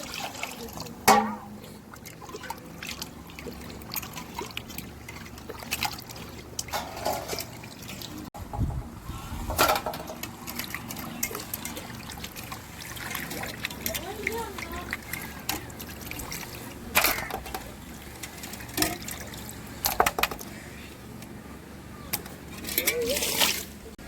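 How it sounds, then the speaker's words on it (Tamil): Water splashes and trickles in bursts as fish is rinsed by hand, with intermittent pours and sloshing close by, under low background noise. "தண்ணி ஊற்றி அலசி எடுத்துக்கிறோம் கழுவி எடுத்துக்கிறோம்"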